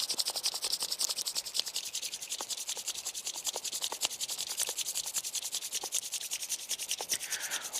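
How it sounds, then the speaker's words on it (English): Hands rub briskly together in a fast, steady back-and-forth rhythm, a soft dry swishing that repeats evenly for several seconds with no talking. "briskly rub your hands like this"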